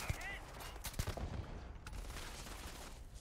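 Quiet sniper rifle shots in Starfield, a few muffled, soft-edged reports spaced about a second apart over low ambient game sound, faint and distant-sounding.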